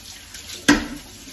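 A short splash of water from a kitchen tap while washing dishes by hand, a brief burst in a quiet room.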